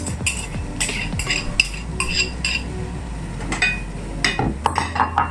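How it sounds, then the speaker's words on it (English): Onions and leek go into a pan for Mexican rice with cooked garlic, bringing a run of sharp clinks and scrapes of a utensil against the pan over a low steady hum, fairly close. "now I'm going to put the onions, then I'll put the leek"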